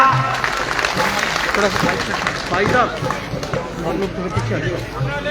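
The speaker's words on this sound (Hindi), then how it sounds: "जोरदार तालियां भाई जी का।" Loud, steady applause from a crowd at a cow-shelter (gaushala) function, with clapping and chatter filling the whole stretch and voices mixed in throughout.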